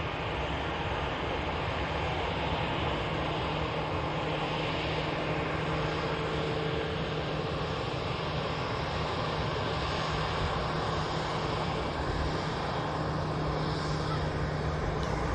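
A Lufthansa Airbus A350 flying from Munich to Charlotte passes over Manchester Airport, its jet engines producing a loud, sustained, even roar with a low droning hum running through it.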